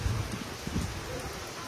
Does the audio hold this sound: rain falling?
yes